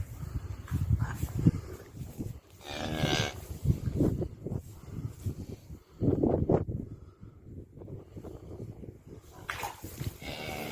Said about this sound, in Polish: Właśnie się nam cieli krowa.